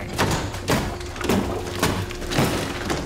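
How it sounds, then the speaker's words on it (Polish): Heavy, evenly spaced thuds of someone pounding on a door, which turns out to be a thin plasterboard wall, during the 9/11 evacuation of the World Trade Center twin towers. About six loud, dull blows land at a steady rhythm over background noise. "Usłyszałem mocne miarowe uderzenia."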